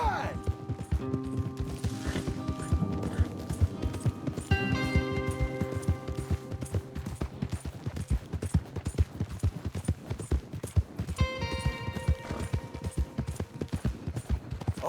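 Several horses gallop in Red Dead Redemption 2, a dense rapid clip-clop of hooves on the ground, close and continuous, with occasional tonal game sounds and voices talking over the hoofbeats.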